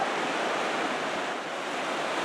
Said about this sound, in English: the creek falls pretty good. It's pretty loud.